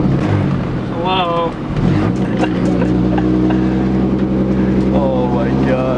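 A straight-piped BMW drives with no muffler and a very loud exhaust. The engine drones on continuously, with brief rising revs, while people talk over it inside the car.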